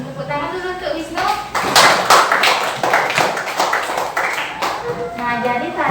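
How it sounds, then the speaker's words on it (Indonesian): A fourth-grade classroom breaks into a round of clapping for a student who has just read a story aloud, with many hands beating together loudly and steadily for a few seconds, and children's voices before and after. "Tepuk tangan dulu untuk Wisnu."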